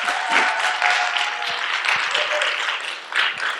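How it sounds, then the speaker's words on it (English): A church audience claps in a steady, dense wash of applause lasting several seconds, with a little talk mixed in beneath the clapping. "give Brenda a hand clap and let her know that"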